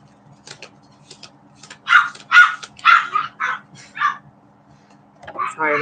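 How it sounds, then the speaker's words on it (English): Several dogs barking indoors, a burst of sharp, medium-loud barks in quick succession followed by a pause and another bark, with faint background hum. "Sorry about the doggies."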